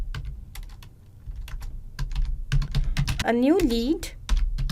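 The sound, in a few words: typing a message on a computer keyboard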